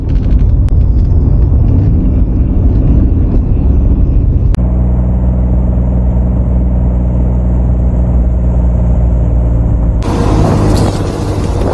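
A $500 Fiero GT being driven, its engine a loud, steady close-up drone that shifts pitch midway and is joined by a harsh burst of noise near the end, with no talking.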